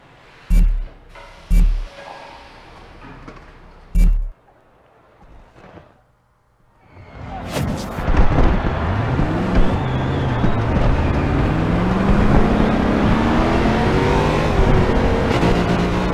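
A few sharp clunks and a brief silence come before a built 2014 Corvette Stingray's engine fires up, revving loud and close, then settles into a sustained rising drone as the car pulls away.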